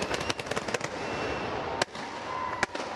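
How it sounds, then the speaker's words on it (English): Fireworks burst over a cricket stadium after an Asia Cup India vs Pakistan match, a rapid string of sharp cracks and pops with louder isolated bangs, crackling continuously against the hum of the crowd-filled venue. "Bit of premature fireworks going off there."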